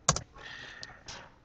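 A few keystrokes on a computer keyboard as a value is entered, two close sharp clicks at the start, then quieter isolated taps over a faint background hum.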